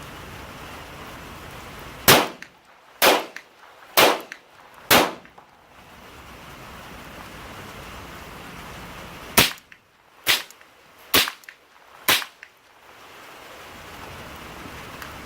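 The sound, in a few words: Ruger Mark IV .22 pistol shots, supersonic ammo, suppressed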